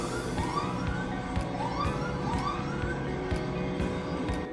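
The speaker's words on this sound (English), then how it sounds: "Was a no ball, as I'm sure you heard the sirens." A rising and falling electronic no-ball siren at a cricket match wails several times over a constant roar of crowd noise.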